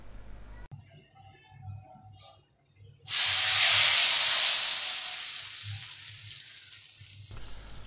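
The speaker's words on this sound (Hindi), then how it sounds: "तड़के की ये आवाज़ भूख को चार चांद लगा देती है" Five or six dried round red chillies hit hot ghee for a dal tadka, bursting into a loud, close sizzle that slowly fades over several seconds after a few quiet kitchen sounds.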